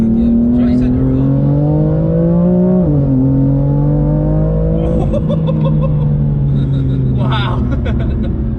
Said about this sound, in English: We do that because we're in a 700 brake horsepower M4.